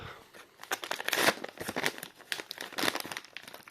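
Close, crackly crinkling of a plastic bubble wrap package as it is handled and pulled open, in irregular bursts of rustling.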